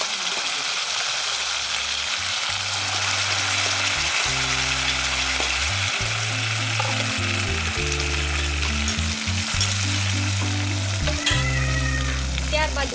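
Tomatoes frying in a hot tempering of cinnamon, curry leaves and asafoetida, a steady close sizzle with a low tonal hum running beneath it throughout.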